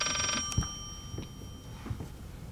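Telephone in the horror video game Layers of Fear gives a short electronic ring burst at the start, then falls silent, leaving faint footsteps and thuds in the game.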